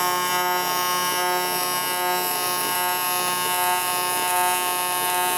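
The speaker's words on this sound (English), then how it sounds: "you can see the ability of the Squarewave to just put that arc right down the center of the seam" A steady, continuous buzzing hum from an AC square-wave TIG welding arc running along an aluminum seam, loud and unbroken throughout with no voices.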